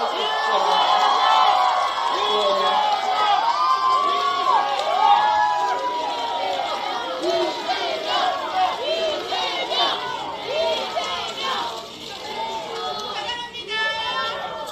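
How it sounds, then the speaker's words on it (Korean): A large crowd cheers and chatters at an outdoor political campaign rally in Hanam, South Korea, greeting a party leader's arrival; the dense, steady roar of voices and whoops runs throughout. "큰 환호 부탁드리겠습니다."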